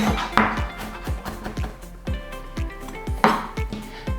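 A kitchen knife mincing a garlic clove on a chopping board, giving quick, uneven knocks against the board with a slight metallic ring, heard close up with no talking.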